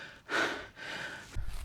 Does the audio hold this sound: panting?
yes